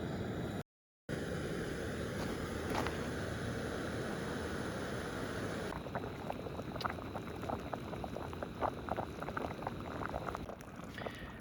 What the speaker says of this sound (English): Now that it's to a boil, I'm gonna try to turn the heat down a little bit.